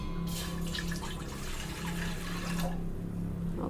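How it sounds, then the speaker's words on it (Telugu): Water pours into a large pot sitting on a stove, a steady splashing and gurgling stream running for several seconds, close and moderately loud with no voices. "ఇందులో కొంచెం వాటర్ వేసుకోవాలి"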